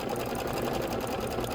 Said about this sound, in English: we are going to go ahead and stitch this